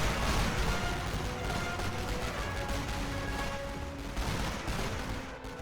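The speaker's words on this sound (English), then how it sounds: "That, I think, is suppressive barrage on that machine gun." Dense, continuous gunfire from a suppressive barrage on a machine-gun position in the World War I game Elite Great War, with overlapping shots and crashes that stay loud throughout and ease slightly near the end.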